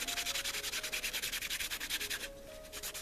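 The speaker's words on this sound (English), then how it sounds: "I'm going to put a little bit of finishing wax on them. Just going to rub it on." Finishing wax rubbed by hand onto painted fabric carrots in a primitive Easter craft, a steady run of quick, close scrubbing strokes with a brief softer pause near the end.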